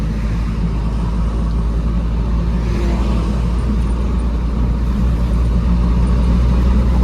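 Steady, loud rumble of heavy road traffic heard from inside a car with a faulty MAF sensor and a new E85-ready fuel pump, a constant low drone of engines and tyres without any talking.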